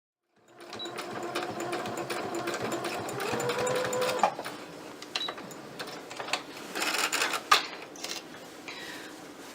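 Sewing machine stitching a kimono duster made from a Vogue 9253 pattern, running in steady continuous bursts up close, with brief pauses and a few small clicks of fabric handling toward the end.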